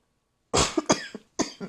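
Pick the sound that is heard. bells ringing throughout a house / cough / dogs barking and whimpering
cough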